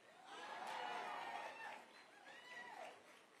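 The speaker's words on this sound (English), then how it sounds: "Give the mayor a big round of applause for convening us." A mayor's Juneteenth reception audience applauds and cheers for the mayor, a faint, distant swell of clapping mixed with crowd voices that rises, dips and rises again briefly.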